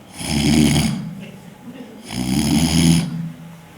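A storyteller on stage at a live storytelling event imitates a dragon's loud snoring, two long rumbling snores with a pause between, close and clear.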